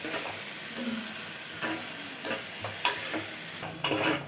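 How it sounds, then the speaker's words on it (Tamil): Finely chopped large onion sautéing in a pan for vegetable kurma, a constant close sizzle broken by the repeated scrape and clatter of a spoon stirring. "பெரிய வெங்காயம், இதை போட்டு நல்லா வதக்கிக்கணும்."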